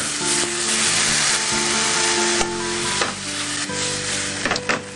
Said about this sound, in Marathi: आणि याच्यामध्ये कांदा सॉटे करून घेऊ